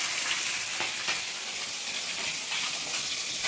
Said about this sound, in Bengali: এই কাকিমা মাছ ভাজছে